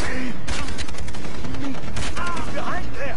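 Bursts of gunfire from the shooter game Far Cry 3, several loud sharp shots crackling close by in quick irregular volleys with whistling effects and a voice talking over them.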